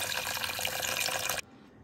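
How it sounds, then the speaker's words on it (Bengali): Tap water runs steadily for about a second and a half as chhena is rinsed under the faucet in a kitchen sink, then cuts off abruptly, leaving near silence. "এবার ছানাটিকে কলের নিচে একটু ধুয়ে নেব"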